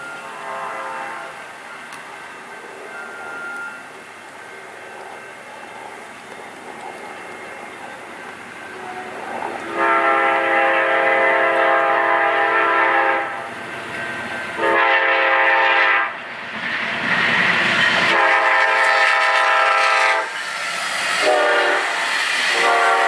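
Amtrak locomotive 145 in Heritage paint leads a passing train, rumbling steadily before loud, repeated horn blasts sound in several long bursts at close range.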